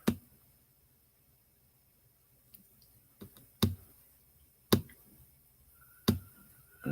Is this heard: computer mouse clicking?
yes